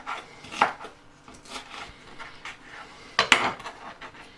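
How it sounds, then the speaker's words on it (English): A knife chops a pepper into small pieces on a cutting board, producing a handful of irregular, close taps and knocks, two of them sharper and louder, with no talking. "And slice it into small pieces."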